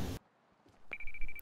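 A brief loud burst gives way to near silence, then a single clear electronic ringtone beep sounds and holds for about half a second in a Fortnite game.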